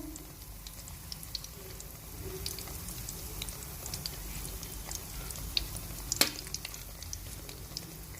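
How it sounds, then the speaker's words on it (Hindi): Chicken kebab sticks frying in a pan, giving a low, steady sizzle with faint crackles and a few sharper pops, heard alone without talking. "कबाब हमारे अच्छे से फ्राई हो चुके हैं"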